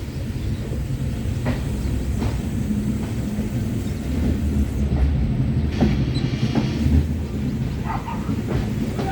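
Mangaluru Rameshwaram Express (16622) on its first run, rolling steadily on the line toward Madurai and Rameswaram, with a continuous low rumble of wheels on rails and occasional faint clacks, no voices.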